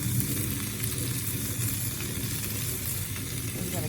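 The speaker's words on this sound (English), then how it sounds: "Got a good sizzle going." Steady, dense sizzling of meatballs cooking on a hot grill, loud and continuous throughout with no pauses.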